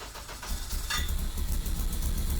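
A K20 engine swapped into a 1987 Pontiac Fiero GT cranks and catches, then settles into a rough, loud idle with a low throbbing rumble close by.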